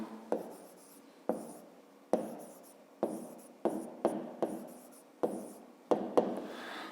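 Pen strokes from someone writing out a fifth-grade math solution on paper: short, separate scratchy bursts in a steady stop-start rhythm, close and quiet, with no speech.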